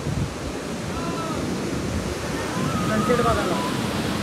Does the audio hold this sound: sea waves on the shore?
yes